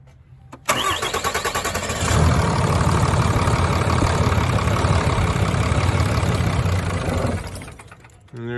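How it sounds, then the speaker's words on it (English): A 2011-2012 RAM 2500 pickup with a 6.7L Cummins diesel cranks and fires, then settles into a loud, steady, rattly idle close by for several seconds before cutting out abruptly, as if stalling. "we're gonna have him go ahead and start firing up, and I'll just show you what the engine's gonna do here"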